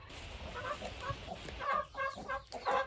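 A hen clucking softly among chicks and turkey poults, a run of short, close, repeated clucks growing louder toward the end, with no talking.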